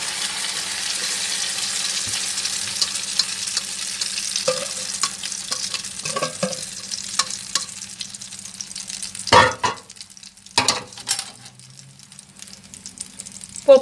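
A carrot kuku mixture sizzles steadily in hot oil in a frying pan, and louder scraping and clunking from a spoon spreading it out breaks in near the end.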